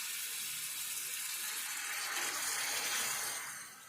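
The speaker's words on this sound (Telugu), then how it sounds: "ఒక్క సగం గ్లాసు నీళ్ళు అయితే పోసుకోవాలి" About half a glass of water is poured into a pot of lentil curry cooked in mutton style. A soft, steady splashing gush continues alone for a few seconds, then tapers off at the end.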